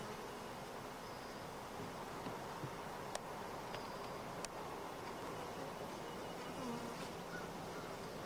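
Honey bees hum around hives carrying a brood nest and two supers, a faint, continuous buzzing drone with a few brief individual fly-bys close to the listener.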